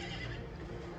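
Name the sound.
horse neighing in a horse movie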